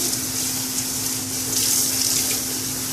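Water runs steadily from a tap in a constant close hiss and splash as a tie-dyed shirt is rinsed, with a faint low hum underneath and no talking.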